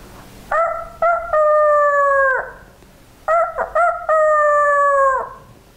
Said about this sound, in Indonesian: Ayam jago pun berkokok.